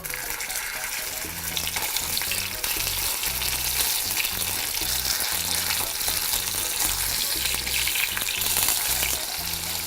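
Thinly sliced ingredients frying in hot oil in a kazan, a loud dense crackling sizzle that continues throughout, with occasional stirring thumps underneath.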